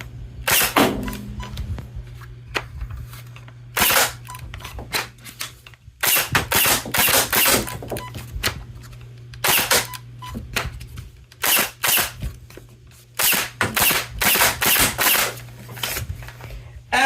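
BK1S electric foam dart blaster firing through magazines on semi-auto, burst and full auto, sharp repeated pops in single shots, short clusters and longer rapid strings, separated by pauses with a constant motor hum underneath.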